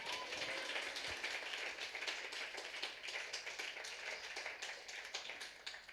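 A church congregation claps during a sermon, a faint, distant patter of many hands tapping in a steady, dense rhythm for several seconds.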